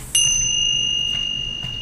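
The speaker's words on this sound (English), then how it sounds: "These are Reiki bells I got in my Reiki training." A single bright strike of a Reiki bell rings out with a clear, pure tone and a long, slowly fading sustain in an otherwise quiet room.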